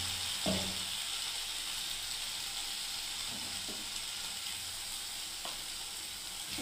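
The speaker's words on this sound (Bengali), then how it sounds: "দেখুন এবার আমি পটলগুলোকে ছেড়ে দিচ্ছি বন্ধুরা এর মধ্যে।" Pieces of pointed gourd go into sizzling spice paste in a pan, raising a continuous quiet frying hiss with a few brief knocks and scrapes as they are tipped in.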